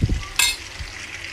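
Field rat frying in lemongrass butter in a pan gives a sudden sizzle burst as pieces are stirred, preceded by a couple of low thumps and followed by a quieter, steady frying hiss, with no talking.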